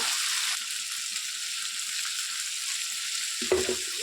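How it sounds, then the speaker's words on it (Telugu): Tomatoes and green chillies with a little salt fry in a pan for an Andhra dry prawn chutney, a constant close sizzle with a brief stirring scrape near the end. "ఇప్పుడు టమోటాలు వేసేసి బాగా వేయించుకున్నాము."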